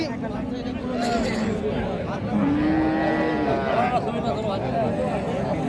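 A native-breed cow lets out a long, deep moo close by while people chat in the background.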